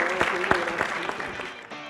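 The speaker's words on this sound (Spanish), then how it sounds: "Un aplauso otra vez, por favor" A brief burst of audience clapping, a handful of distinct claps rising and fading within a couple of seconds, with a voice running faintly underneath.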